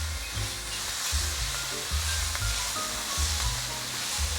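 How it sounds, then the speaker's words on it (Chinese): Seasonings of black pepper, cumin, paprika and black salt being stir-fried in a pan, a soft continuous sizzle with low rhythmic scraping and stirring throughout. "把所有调味料炒匀。"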